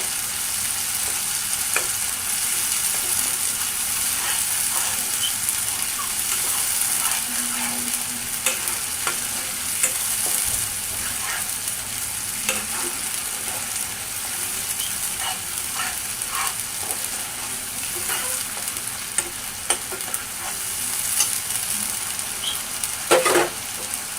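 Beef sizzles and fries in pure mustard oil as it is stirred, a steady close crackle with occasional scrapes of a utensil over the whole stretch, without any talk.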